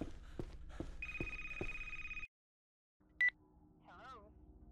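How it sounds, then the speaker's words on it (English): A telephone rings in the Devil Inside Us horror video game: a sustained electronic ring over low rumbling ambience and thumps, then a pause, a short sharp beep and a wavering tone. "Creepy phone call, but it's okay. Just take a left there and answer it."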